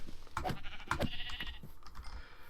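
Sheep bleat in a modded Minecraft game, several short quiet bleats in quick succession with faint clicks of keyboard typing underneath and no talking.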